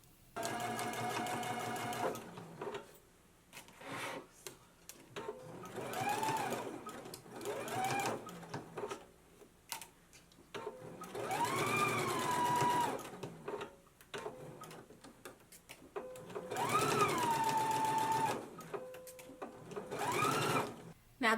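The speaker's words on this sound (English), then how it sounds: "So let's go ahead and stitch it in place now." A sewing machine stitches the collar band of a McCall's 7330 jumpsuit in intermittent whirring bursts, while someone talks between and over the runs.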